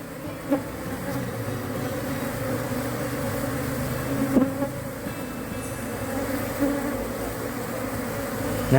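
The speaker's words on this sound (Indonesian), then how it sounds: "ketika satu lebah sudah kita ikat di dalam kotak budidaya, koloninya berduyun-duyun masuk ke dalam lubang untuk mencari keberadaan ratu" An Apis cerana honey bee colony swarms into a wooden hive box, filling the air with a dense, continuous buzzing hum close by, with a few louder passes as individual bees fly near.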